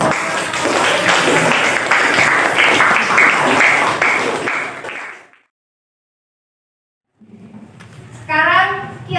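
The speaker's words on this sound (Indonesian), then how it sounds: "Kita beri aplaus untuk" A classroom group claps after a group presentation, with steady applause for about five seconds, then a brief silence before a teacher begins speaking.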